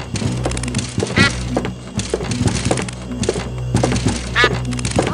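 Repeated cartoonish duck quacks in the Monkey Island video game, in bursts over a busy backdrop of game music and sound effects.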